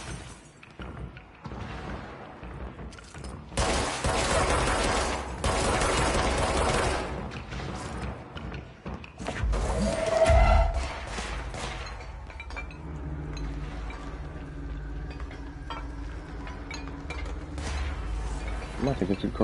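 Rapid bursts of gunfire and a heavy explosion in the video game Control: Ultimate Edition on PS5, with dense crackling and booming, then a quieter stretch of mechanical noise. Someone talks over parts of it.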